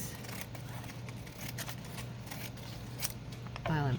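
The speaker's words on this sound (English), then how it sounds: "I'm going to cut this." Scissors cut through dry painted paper at close range, with soft snips and rustles over a low steady hum, and a brief louder sweep near the end.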